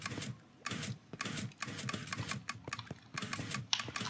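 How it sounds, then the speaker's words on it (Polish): Rapid, close clicks from a computer mouse or keyboard during Minecraft Dungeons gameplay come in uneven bursts with short gaps, clear and fairly quiet, with no speech over them. "Czyli po prostu teraz klikamy."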